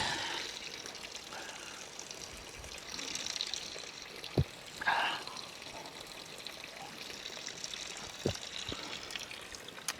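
Mountain spring water from the Sierra Madre pours and trickles steadily as it is collected, a soft continuous splashing with a couple of brief louder knocks, close by and with no talk over it.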